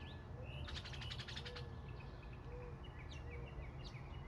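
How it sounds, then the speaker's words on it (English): A mockingbird calls outdoors with a quick burst of repeated sharp chirps, then scattered shorter tweets, over a steady bed of insect and cricket noise. "Does anyone know what kind of bird that is? That's a mockingbird."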